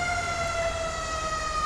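A fire truck siren wails steadily and loudly in the video game GTA 5 at a burning high-rise, its sustained tone holding without a break.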